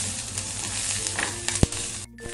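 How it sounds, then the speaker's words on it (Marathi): Green chili pieces roast in a hot pan with a steady, close sizzle, joined by a few sharp crackles and a brief pop before a short quiet gap near the end. "मिरच्यांचे तुकडे सुद्धा छान डाग पडेपर्यंत भाजून घ्यायचे."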